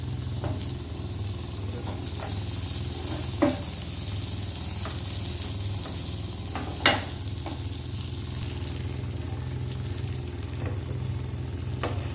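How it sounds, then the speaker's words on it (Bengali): Eggplant slices frying in oil in a pan, a steady close sizzle running throughout with a couple of brief clinks or taps, no voices. "বেগুন ভাজা বসিয়ে দিলাম"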